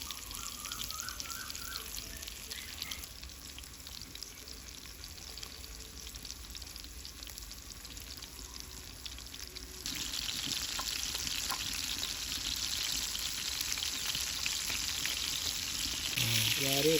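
Fish fries in hot oil in a village kitchen, a continuous crackling sizzle that grows noticeably louder and denser about midway, as though more fish went into the oil.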